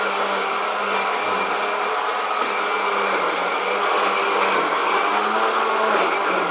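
A kitchen blender runs steadily at high speed blending shallots, a loud, continuous whirring grind with no pauses and no voices.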